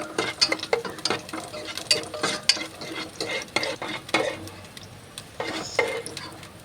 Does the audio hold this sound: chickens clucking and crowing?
no